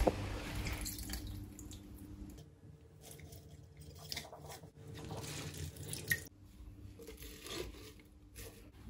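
Water drips and trickles from freshly washed kale leaves as they are lifted out of a bowl of water, with soft wet squishing and scattered droplets heard close up, no talking.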